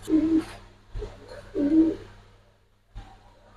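Giribaz pigeons give two low, throaty coos close by, each lasting about half a second and separated by a short gap, with soft rustling and a faint click between them.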